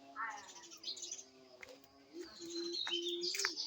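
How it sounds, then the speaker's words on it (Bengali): Several birds chirp and tweet in the morning, with bright, repeated calls that come and go at moderate loudness and a few short sharp notes toward the end. "দেখেন পাখি কি সুন্দর কিচিমিচি করে ডাকতেছে"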